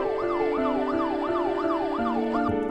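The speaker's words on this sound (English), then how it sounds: "you can hear the faint sound of police sirens in the background" A video game police siren wails, rising and falling in a steady, rapid cycle, loud and continuous over a constant mechanical hum.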